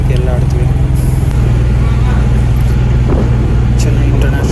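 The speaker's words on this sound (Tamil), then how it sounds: "செம்ம டிராஃபிக் எல்லா இடத்துலையும்." Heavy road traffic near Chennai airport, a steady loud engine rumble of cars, buses and trucks with constant low drone and brief hiss, heard from inside a mini truck.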